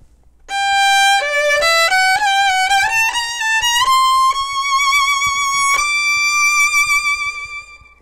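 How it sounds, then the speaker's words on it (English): A bowed string instrument plays a short solo phrase, its final two notes drawn on undershapes so each swells and holds rather than fading away; clear and close, alone with no talking, the last note sustaining about two seconds. "It would be possible to play both notes on undershapes, and that would sound like this."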